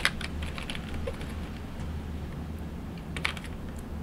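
Sparse key presses and hotkey taps on a computer keyboard while trading in DAS Trader Pro, a few clicks near the start and one sharper press later over a low room hum.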